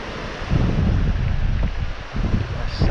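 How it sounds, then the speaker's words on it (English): Steady wind buffets the microphone on a shoreline during a fishing match, a continuous low rumble and hiss with faint surf underneath and a little speech present. "That wind's dropped off slightly"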